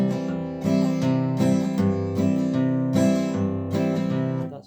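Acoustic guitar in Carter scratch style, melody notes picked one at a time over a steady bass, played alone in close, even phrases.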